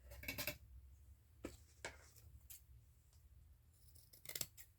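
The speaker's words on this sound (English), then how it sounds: "I think I'm going to cut a page length to use" Scissors snip through lace close up in a quiet room, a few crisp cuts with soft rustling between them.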